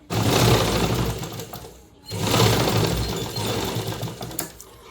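A sewing machine stitches the main seam of a farshi salwar in two close, loud bursts of rapid, even clatter, with a brief pause between them.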